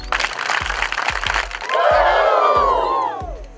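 At a 2013 foundation weekend event, a crowd claps in a sharp, uneven run of about five hand claps, then breaks into a loud, long collective whooping cheer imitating a wrestler's signature woo.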